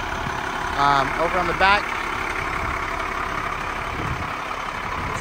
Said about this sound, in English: It is a diesel, of course. I do have it running, sounds great.